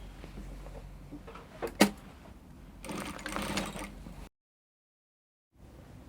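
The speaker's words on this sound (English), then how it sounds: "you place the bias on the right side of the neckline and you stitch all around the neckline" A sewing machine stitches a bias strip around the neckline of a bubu dress in two short runs with a click between them. A brief silence follows, then faint room noise.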